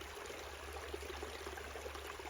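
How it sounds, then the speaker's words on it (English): A small stream trickles and babbles steadily close by, a continuous soft wash of flowing water without pauses or other sounds. "The little stream beside me didn't seem concerned about any of that."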